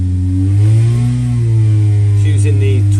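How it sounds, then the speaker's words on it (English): A 998 engine fitted with a 2836 Weber carburettor on a banana-type manifold and a large-bore 4-2-1 exhaust, pulling under load with a strong, rising, buzzy drone and shifting pitch, loud and close. "It's using the 2836 Weber on the banana type manifold, and it's got a lovely Will Parry 4x2x1 large bore exhaust"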